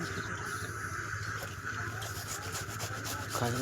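Salad ingredients being rubbed or grated by hand, a steady, close scraping texture running throughout with no talk.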